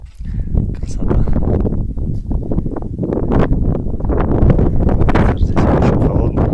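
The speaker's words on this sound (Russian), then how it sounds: "Ветер здесь очень холодный." Strong cold wind gusts across a mountain peak, buffeting the microphone with loud, continuous low rumble and roar that swells and surges throughout.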